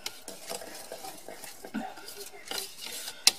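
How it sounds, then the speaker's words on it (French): Chocolate cake batter stirred in a bowl with a utensil, giving soft, irregular scraping and swishing strokes close by, with one sharp clink of the utensil against the bowl near the end. "on va tout simplement remuer notre mélange pour faire notre appareil à gâteau"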